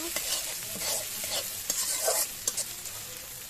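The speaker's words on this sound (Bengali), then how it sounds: "এবার মরিচ আর পেঁয়াজ ভালো করে ভেজে নেব।" Chopped onions and chilies fry in a pan with a soft, continuous sizzle, punctuated by intermittent scraping and clinking as a spoon stirs them, fairly quiet and close with no voices.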